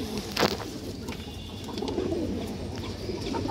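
A female pigeon coos in low, muffled, continuous murmurs amid close background rustle, with a brief sharp noise near the start.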